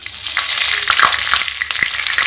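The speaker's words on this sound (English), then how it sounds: "We'll fry them for some seconds" Cumin seeds, fenugreek, black cardamom and bay leaf fry in hot oil, making a loud, dense sizzle full of quick crackles and spits that runs continuously through the short stretch.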